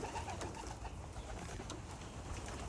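Racing pigeons coo softly at the loft after a bird toss, faint and distant under a steady background hiss.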